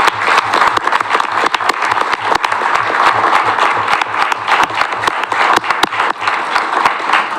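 Loud, close applause from a city council chamber audience, many hands clapping steadily throughout, with sharp individual claps standing out above the dense wash.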